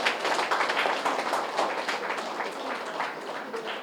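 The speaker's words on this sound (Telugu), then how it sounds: "ఒకసారి గట్టిగా చప్పట్లు కొడతాం" An audience claps loudly and densely at an outdoor rally gathering, a continuous burst of many hands close by that holds steady for a few seconds.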